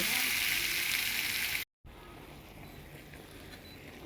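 Eggplant, potato, taro stolons and fish sautéing in oil for a Bengali fish curry, a loud hissing sizzle that cuts out abruptly, then returns as a quieter steady fry.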